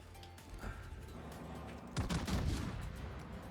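A salvo from a Tier X premium Italian battleship's main guns in World of Warships, heard as a low rumble that breaks into a cluster of heavy booming blasts midway through the clip, with no talking.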